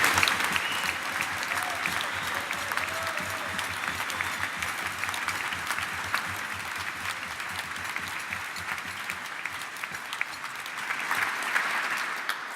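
Sustained applause from an audience at a formal evening event honouring a retiring lieutenant general, steady dense clapping for about twelve seconds with a slight swell near the end.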